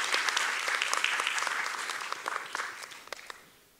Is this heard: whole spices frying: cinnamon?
no